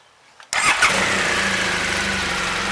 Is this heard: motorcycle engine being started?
yes